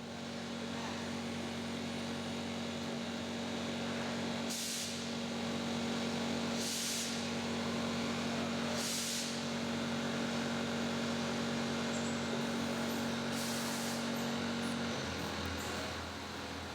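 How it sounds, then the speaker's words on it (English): Brass rod spinning in a machine while stationary tools cut it into a pressure regulator body, heard as a steady loud mechanical hum with a constant motor tone and several short hissing bursts of cutting at regular intervals. "Various tools precisely machine the metal into a regulator body."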